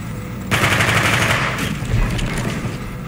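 Rapid automatic gunfire in Call of Duty Black Ops bursts out loudly and continuously for about a second, then a second burst follows with booming reverberation trailing off.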